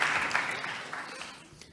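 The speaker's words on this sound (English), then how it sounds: "Please, one more time, give y'all round of applause." Applause from a conference audience at a nursing society session, a broad clatter of clapping that starts strong and gradually tapers off.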